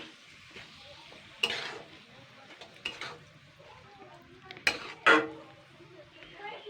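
Fish eggs are stirred in a pan, with a soft sizzle under sharp scrapes and clinks of a utensil against the metal, several sudden louder strokes standing out close by.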